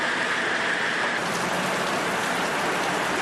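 Constant heavy rain pours down during flooding in Manta, Manabí, Ecuador, a dense, even hiss of drops striking surfaces that holds steady throughout without talk.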